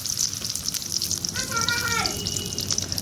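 Chopped onions frying in hot mustard oil in a kadai give a steady, close hiss of sizzling throughout, with a brief tonal warble in the middle.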